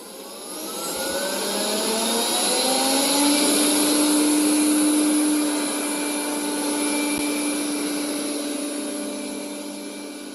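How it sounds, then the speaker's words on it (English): A Roborock S7 robot vacuum runs under remote control with a steady, loud motor whoosh and a high whine that swells and eases slightly as it moves, alone and close. "Starting remote control."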